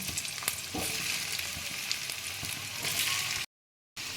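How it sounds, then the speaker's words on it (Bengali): Potatoes coated with turmeric and salt fry in hot oil, giving a steady, close sizzle with scattered stirring clicks and a brief dead-silent gap near the end. "এবার আমি আলু, হলুদ নুন মেখে রেখে দিয়েছি, এগুলো ভেজে আমি তুলে নেব।"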